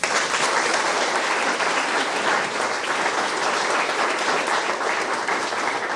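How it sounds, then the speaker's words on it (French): A crowd at a French town meeting, where the mayor reviews the summer season, breaks into sustained applause for several seconds, a thick wash of clapping at steady volume with no voices on top. "vous pouvez les applaudir"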